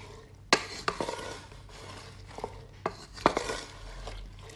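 Capsicum and onion stirred in a pan for kadai paneer, a spoon scraping and clacking against the metal in irregular close knocks over a soft background hiss, with no talking.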